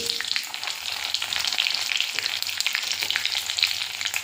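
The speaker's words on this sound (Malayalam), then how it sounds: "അതിലേക്ക് നമ്മൾ കുറച്ച് ഉഴുന്നും പരിപ്പ് ഇടുകയാണ്" Urad dal and chana dal crackling in hot oil with mustard seeds and green chilli, a steady close sizzle with bright spitting pops throughout, no voices.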